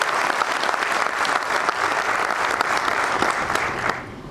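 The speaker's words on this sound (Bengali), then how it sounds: "সবাইকে জোরে একটা করতালি দিতে হবে" Audience at a cultural programme clapping loudly together for a performance, a dense steady wash of applause that holds throughout and thins slightly at the end.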